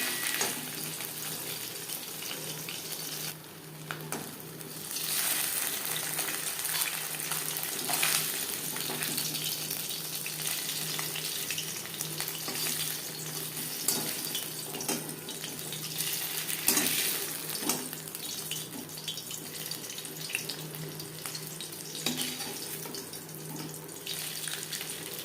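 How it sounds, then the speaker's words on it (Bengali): Live shing fish lightly frying in oil in a kadai: a continuous, moderate hiss of sizzling oil with occasional clinks and stirring noises, close by and without speech. "জ্যান্ত মাছ বলে আমি খুবই হালকা করে ভেজে নিলাম।"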